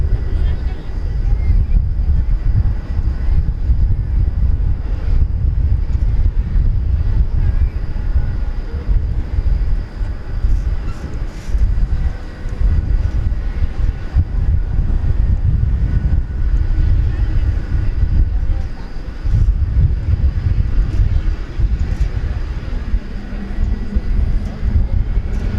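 A FedEx cargo plane diverted to DFW Airport at night in windy conditions produces a deep, continuous jet rumble with gusty wind noise, steady and fairly loud, while a person talks over it.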